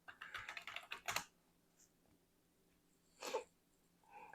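A computer keyboard clatters in a quick burst of keystrokes as a command is typed, then falls quiet before one more short, faint tap cluster; close and fairly soft.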